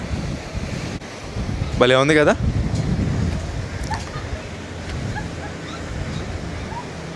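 Water taxi on the river in Malacca: a steady motor-and-water wash under strong wind buffeting, with a person speaking briefly over it early on and faint distant voices later.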